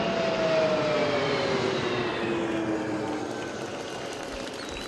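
A tanker aircraft from the 133rd Air Refueling Squadron, 157th Air Refueling Wing at Pease Air National Guard Base, New Hampshire, passes overhead during a basic military training graduation ceremony, its steady jet roar loud throughout and slowly fading with a falling whine.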